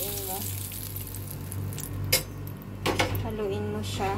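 Flour-coated fish fries in hot oil, giving a loud, steady sizzle close up, with utensils clinking against the pan and brief bursts of stirring. Faint voices can be heard in the background.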